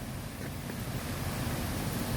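A river flowing beside a condominium, a continuous dense rush of water heard close and fairly loud with no other sounds.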